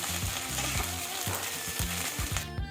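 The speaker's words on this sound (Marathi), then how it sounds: "भाजी करताना आधी भेंडी तेलात जरा भाजून घ्यायची" Okra frying in oil in a pan, for dahi bhindi: a dense, close sizzle with quick crackles and stirring knocks, steady for under three seconds before cutting off, with no voices.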